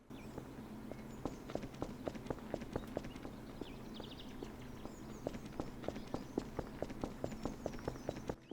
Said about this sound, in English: the footsteps start off really slow, but then they progressively go up, almost as if it's on a spectrum instead of just going from walk to run